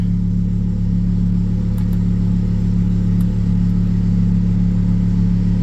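A Lamborghini Huracan with gutted catalytic converters sits in Corsa mode, its engine holding a loud, deep, steady rumble close by, with no talk over it.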